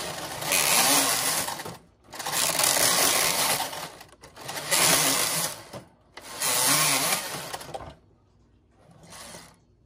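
A Brother 940 knitting machine's lace carriage makes four loud whirring, clattering sweeps across the bed, each about two seconds long with short pauses between, and a fainter fifth pass at the end.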